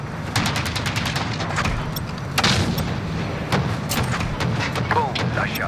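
Rapid automatic gunfire and heavy booms from a Call of Duty Modern Warfare (2019) Hardpoint match on Cheshire Park, with repeated bursts of shots and a louder blast, partly under radio-style talk.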